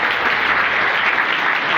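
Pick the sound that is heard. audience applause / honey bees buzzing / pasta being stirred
audience applause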